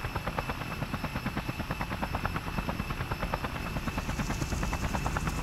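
A helicopter in the video game Just Cause flies along with a loud, steady rotor thump pulsing rapidly over a constant engine whine, close and continuous throughout.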